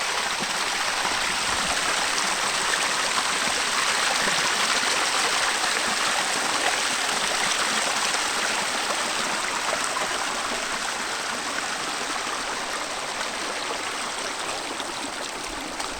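A rain-swollen stream rushes steadily nearby in the Konkan during monsoon downpour, a dense, constant flowing hiss of water without pause.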